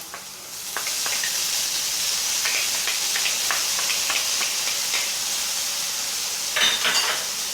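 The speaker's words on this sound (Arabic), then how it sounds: "من بعد ما تقلات ليا البصله كما شفتوا ونزلات شويه، في هذه الاثناء كنضيف ليها داك الفلفل الاحمر" Onion and red pepper frying in a pan, giving a steady, close sizzle with a few faint clinks of stirring and a brief louder crackle near the end.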